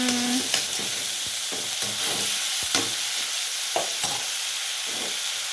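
Chicken tinola in a pot being stirred, with a spoon scraping and knocking several times in an irregular rhythm over a steady sizzle, close and clear, with no one talking.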